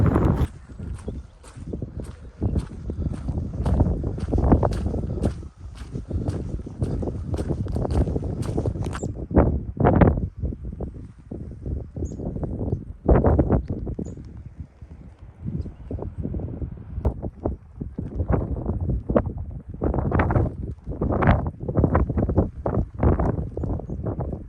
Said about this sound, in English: I hope you can hear me through the wind.